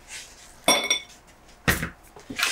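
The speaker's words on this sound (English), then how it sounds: "A little ice for our glass." Ice cubes dropped into an empty cocktail glass, bright clinks arriving in three separate bursts, close and fairly loud, with quiet pauses between.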